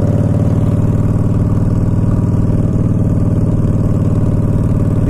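Modified, non-stock 2015 Yamaha Stryker motorcycle engine running loud and steady at a low, throbbing idle, close up with no talk.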